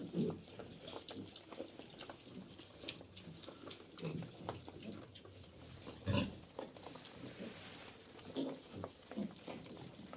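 A sow, boar and piglets grunt and oink continuously in a pigsty, a busy mix of close snorts and squeals with rustling and shuffling throughout.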